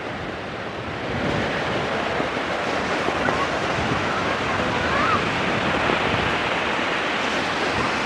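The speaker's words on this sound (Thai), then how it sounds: "มองไปทะเลคลื่นอย่างแรงเลยครับ สายลมกระแทกใส่กับคลื่น ซัดสาดเข้าริมฝั่ง" Strong sea waves crash and surge onto a Thai sandy beach while gusting wind buffets the microphone, a dense steady roar that swells after the first second and stays loud throughout.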